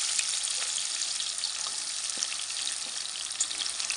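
Onions and green chillies frying in hot oil for a cluster beans curry, a steady bright sizzle with faint crackles and occasional stirring clinks, continuous and close.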